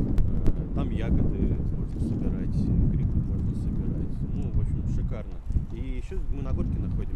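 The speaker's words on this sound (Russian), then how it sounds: "Здесь ветер чуть-чуть может быть посильнее" Gusty wind buffets the microphone on a hilltop near a forest with a constant low rumble, while voices talk over it throughout.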